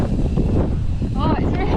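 Strong wind roars into the microphone during a mountain bike ride down a flowy trail with table jumps, a steady low buffeting rumble throughout, with a brief voice breaking through near the end.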